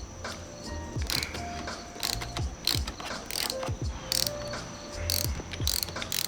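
A ratchet loosens bolts on a motorcycle brace bar during a bar clamp install, making loud, close bursts of rapid clicking in repeated strokes with short pauses between them.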